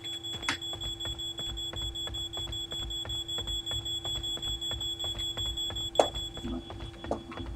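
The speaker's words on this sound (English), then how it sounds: "There's a fire alarm going off." Fire alarm going off in the horror video game Paranormal, a steady, rapid electronic beeping with a sustained tone, loud and continuous throughout, with a couple of sharper bangs layered in and no talking.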